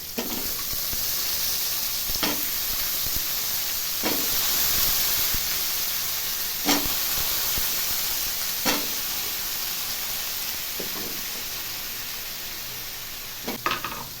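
Steady sizzling hiss of kohlrabi frying in a pan, with occasional soft scraping stirs, continuous and close, no voices.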